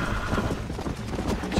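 Horse hooves galloping in the video game Red Dead Redemption, heard as rapid rhythmic clip-clop under overlapping talk, with a brief neigh.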